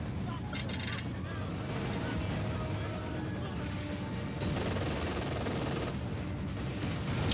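Heavy mortar rounds pound a Panzer tank in Company of Heroes 2, with dense rumbling explosions and gunfire filling the scene continuously under a voice speaking.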